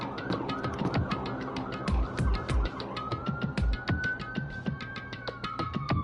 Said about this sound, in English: Attention-seeking ass ambulance.